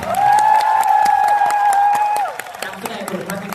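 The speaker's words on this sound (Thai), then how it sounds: "ขอเสียงปรบมืออีกหนึ่งรอบค่ะ" Scattered audience claps for the cast of a Thai series at a fan event sound beneath a loud, sustained tone and a voice, with the clapping sparse and uneven throughout.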